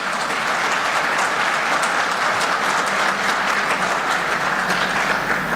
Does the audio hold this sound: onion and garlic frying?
no